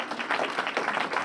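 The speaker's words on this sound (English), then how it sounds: "Give them a round of applause," A morning business event audience claps in steady, dense applause for about a second, filling the room evenly with no voices over it.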